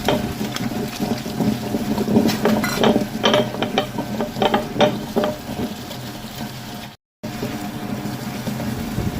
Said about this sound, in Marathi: आता तितून उदका सकट सोलां घालता